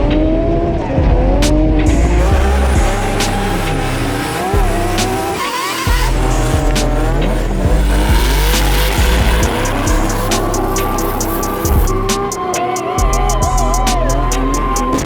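Drift cars sliding at the Freedom Factory track during a drift week finale, engines roaring continuously with repeated loud tire squeals and skids, close and sustained for the whole stretch without speech.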